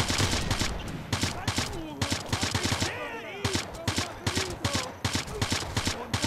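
A weapon fires in the World War II shooter Sniper Elite 3, giving a quick, steady string of sharp shots close by, with someone talking over the gunfire.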